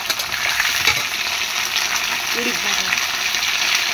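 Ingredients hit hot oil in a home kitchen pan and keep frying, a steady loud sizzle with a few faint stirring scrapes underneath.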